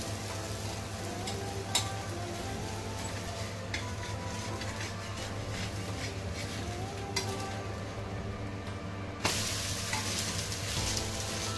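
Oil sizzles steadily around a dosa frying on a hot pan for a fasting-style masala dosa, a continuous close hiss with a few light scraping or stirring clicks and a brighter surge near the end, with no talking.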